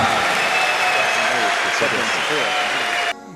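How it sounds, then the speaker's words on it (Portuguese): A church congregation gives a round of applause for Our Lady, steady clapping blended with sustained music and voices, cutting off abruptly near the end. "Uma salva de palmas a Nossa Senhora."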